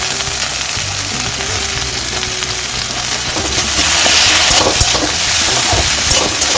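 Okra and potato fry in a pan with a loud, continuous sizzle and crackle, growing slightly busier toward the end, with no talking.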